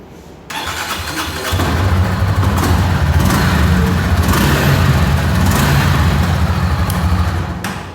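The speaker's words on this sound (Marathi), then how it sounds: "तुम्हाला फक्त साऊंड ऐकून दिला बाईकचा कसा आहे तो" A 2024 Honda CB300F motorcycle engine with a 77 mm bore and 63.33 mm stroke fires up inside a showroom, then idles with a steady, loud, close rumble that holds even for several seconds before easing slightly at the end.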